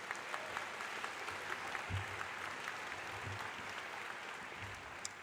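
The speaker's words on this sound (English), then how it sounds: "So one round of applause for him for this." Audience at a university graduation ceremony gives a round of applause for a dean, steady, even clapping from a large crowd filling the hall, with a few low murmurs underneath.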